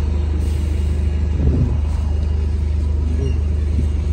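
Bus at Stratford bus station, London, rolling past with a deep engine rumble and low drone that swells briefly, close and steady, with faint background activity.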